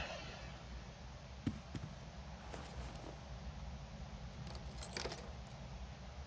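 Keys jangling in the video game Alter Ego, faint metallic clinks in a few brief bursts over a quiet background, with a sharper rattle early on and another cluster near the end.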